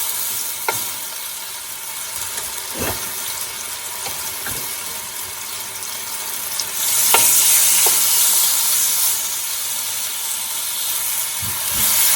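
Chicken pieces for jalfrezi fry in a pot with a steady loud sizzle, broken by occasional scraping and knocking as they are stirred and added a few at a time.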